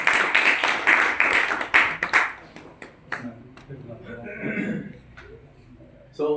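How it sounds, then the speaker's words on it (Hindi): An audience at a business event claps for the master of ceremonies in a burst of quick, rhythmic claps for about two seconds, then the applause thins out into scattered claps and voices. "एक बार जबरदस्त ताली बजा दो"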